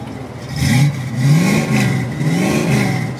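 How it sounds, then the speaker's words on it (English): A 1970 Ford Mustang coupe with a 351 V8, fitted with headers and exhaust dumps, revs up close and loud. The engine surges and falls back in about four quick throttle blips over a rough idle. "Do you mind revving the engine a little bit for me,"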